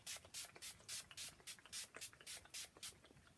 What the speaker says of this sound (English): I'm taking my Mario Badescu facial spray and aloe cucumber